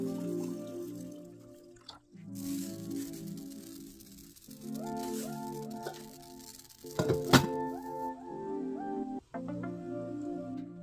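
A large kitchen pot being filled with salted water from a tap: running water with gurgles and a tone that rises as the pot fills, broken by a few knocks and clunks.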